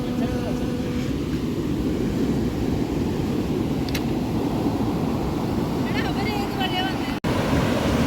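Waves wash continuously onto the beach at Gokarna, a steady broadband roar mixed with wind buffeting the microphone, with brief faint sounds near the end.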